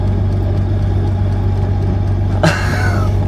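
A classic car engine hums steadily while driving in second gear, a constant low drone with a brief clunk and whine of a gear change near the end.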